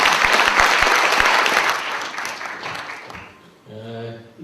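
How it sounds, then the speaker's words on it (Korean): Audience applause for a lecturer at a Korea Chamber of Commerce lecture in Beijing, a dense sustained clapping from a crowd that fades out, followed by a brief spoken voice at the end. "우리 정덕흠 이사에게 큰 박수 한번 다시 부탁드립니다"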